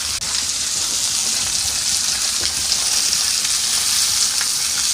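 Seasoned steak in a stainless steel pan, heard as a loud, continuous close-up hiss and crackle of frying with a faint clack as pieces are flipped, steady throughout the short stretch and without any talking.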